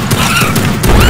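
Gunfire from a pistol in the video game Project Warlock, a burst of loud, close shots running together with booming low-end impacts, no talking.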